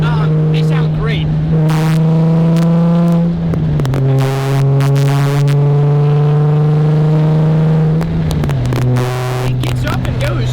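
Nissan 350Z six-cylinder drift car fitted with test pipes, heard from the cabin as the engine pulls through the gears in long climbing sweeps, loud and droning with brief dips at each shift, while people talk over it.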